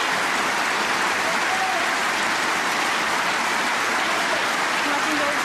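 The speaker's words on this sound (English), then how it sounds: "All that applause won't necessarily have helped Martin Gould." A snooker crowd applauding at the German Masters quarter-final, a dense, steady wash of clapping that fills the whole stretch at close, even loudness without letting up.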